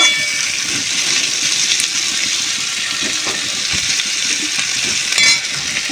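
Dried fish (shutki) frying in a pan until reddish, a steady loud sizzle holding evenly throughout with no talk.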